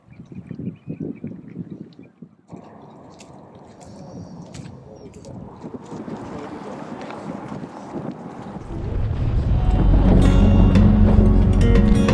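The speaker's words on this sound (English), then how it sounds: "Choppy, windy morning for the start of day 3." Wind buffets the microphone with a low rumbling roar on a choppy, windy morning during a bikepacking trip, growing louder and steadier toward the end, with faint water and movement sounds earlier.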